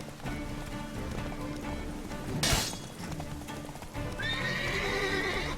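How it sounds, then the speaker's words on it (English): A galloping horse ridden by a bandit in The Witcher 3: The Wild Hunt gives steady clip-clop hoofbeats, a sharp crash midway, then a loud rising whinny near the end. "Oh, there's another bandit on horseback."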